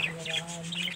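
Budgie lovebird chicks in a breeding pot give soft, rapid, high chirps in quick repeated bursts, close by, over a steady low hum.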